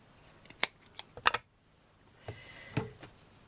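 Scissors trimming material off a miniature corset, several sharp close snips in a quick cluster, then a pause and a couple more softer cuts with light handling noise.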